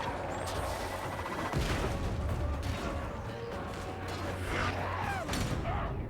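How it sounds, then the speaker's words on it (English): Grenades explode in Warhammer 40,000: Darktide amid dense game combat, with several thumping blasts and crackling debris over a constant rumbling backdrop, fairly quiet overall. "More grenades go in."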